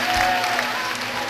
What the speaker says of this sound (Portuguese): Aplauda ao Rei Jesus.